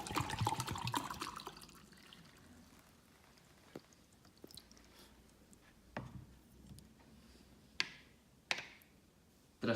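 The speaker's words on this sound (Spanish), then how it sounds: "Vertemos agua sobre el recipiente y lo dejamos reposar durante 30 segundos." Water pours and splashes briefly at the start, then quiet with a few sharp clicks and taps against a container.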